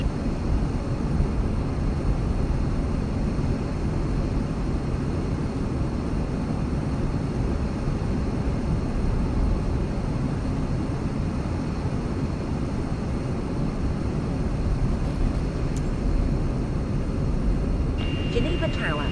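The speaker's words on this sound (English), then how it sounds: "cleared for takeoff." A passenger airliner on a Cairo to Amman flight accelerates down the runway for takeoff, a constant loud, dense engine roar heard from inside the cabin, with radio voices faintly beneath it.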